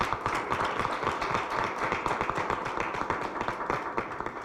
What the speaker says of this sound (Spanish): Recibimos nuevamente con un cálido aplauso a la senadora Kenia López